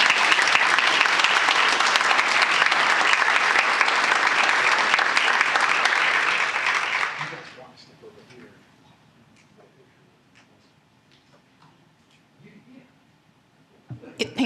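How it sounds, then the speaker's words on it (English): A school board meeting audience applauds students honored for state meet accomplishments. The applause is dense and steady for about seven seconds, then fades into a quiet room with scattered small noises. "We can all applaud."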